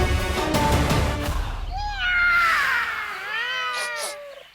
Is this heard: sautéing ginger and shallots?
no